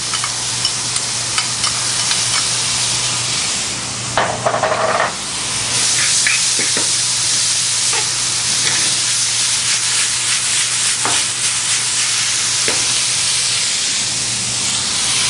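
Butternut squash risotto sizzles and hisses in a hot pan alongside pan-roasted duck, a loud continuous fry broken by a burst of steam and a few spoon scrapes and clinks while it is stirred.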